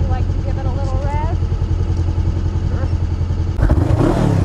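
A motorcycle engine idles with a steady throb, then is revved sharply near the end, loud and close, while people talk over it.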